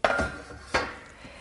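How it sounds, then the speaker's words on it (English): Large cooking pan lifted out and set down, two or three sharp metallic clanks and knocks close by in a kitchen, with quiet room tone between. "Let's get out our pan here"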